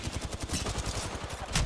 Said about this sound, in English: I got some shots off.